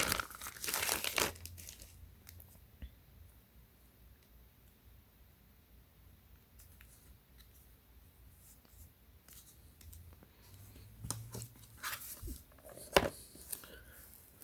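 A Ziploc plastic bag crinkles in short bursts close by, with loud rustles at the start and again near the end separated by a quieter stretch.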